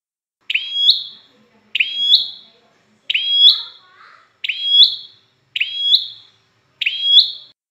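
A small, inexpensive cage songbird sings six loud, clear whistled phrases, each about the same, spaced evenly at roughly one-second gaps in near silence.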